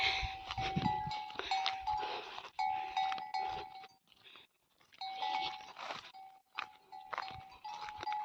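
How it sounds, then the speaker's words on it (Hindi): A neck bell on a donkey in a mountain village clinks in repeated short rings, near and fairly quiet, with crunching and chewing sounds underneath and a brief lull midway. "साफ पता चल रहा है इसके गले में घंटी है"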